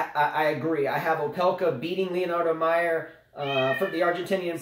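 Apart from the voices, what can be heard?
cat meowing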